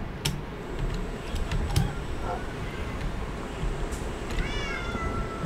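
Cat meows in the video game Minecraft, a few short wavering cries toward the end over steady game background noise, with some faint clicking.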